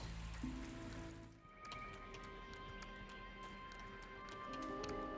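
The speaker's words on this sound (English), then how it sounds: "It's raining now." In the online role-playing game Anarchy Online, rain falls as a steady, faint patter with a soft hiss, running continuously over a low hum and a few sustained game tones.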